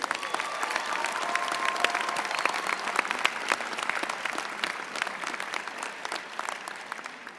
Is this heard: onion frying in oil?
no